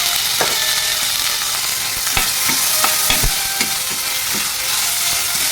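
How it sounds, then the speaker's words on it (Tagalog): Tomatoes are stirred into a hot pan for homemade chicken masala, a steady sizzle of frying running throughout with several sharp scraping knocks of the spoon against the pan. "Sunod na rin natin ang ating kamatis."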